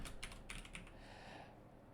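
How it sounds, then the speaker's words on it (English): Quick clattering keystrokes on a new computer keyboard, a short burst of close typing that trails off into quiet room tone. "New keyboard."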